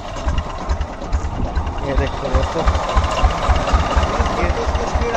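An antique T 25 tractor engine runs close by with a loud, rhythmic low thudding chug at a steady pace, while someone speaks briefly over it.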